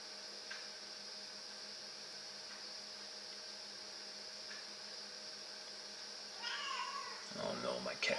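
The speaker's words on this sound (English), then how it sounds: "Oh no, my cat." A house cat meows a few times close to the microphone, short rising calls over steady background hiss, with a person's voice briefly audible.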